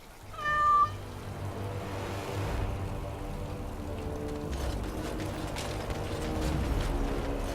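A cat meows once, close and clear, in the video game Dragon Age: Awakening, followed by a steady ratcheting, gear-like mechanical hum in the background.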